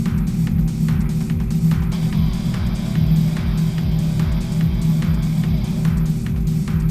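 A car's engine rumbles in a low, pulsing drone from inside the cabin as it pulls out onto the high-banked oval track behind the pace car. The sound holds a steady, loud, throbbing tone with no talk.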